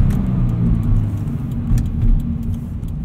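A car engine blips and revs in short bursts during a heel-and-toe downshift under hard braking, heard from inside the cabin as a steady loud drone with quick rises, no talk.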